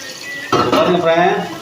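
Chopped tomatoes tipped into a metal biryani pot, a clattering scrape and a soft sizzle of the ingredients hitting the pan, close and brief, with some utensil contact.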